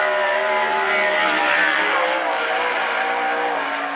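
Sprint car on a qualifying lap at a speedway at the Central Washington State Fair, a loud sustained high-pitched engine howl holding steady throughout, slightly distant, with no break in the roar.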